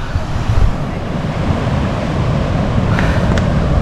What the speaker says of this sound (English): Welcome to Pandan Beach, and look at that.